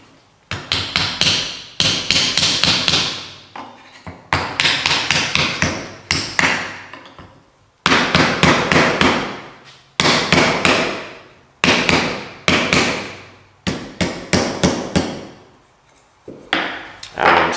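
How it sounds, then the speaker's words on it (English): A rubber hammer thumps a piece of wood laid over metal held in a vise, flattening it on a vintage truck model project: steady runs of sharp, close blows in bursts with short pauses between them. "I'm just going to use a piece of wood and a rubber hammer just to hammer this down and flat"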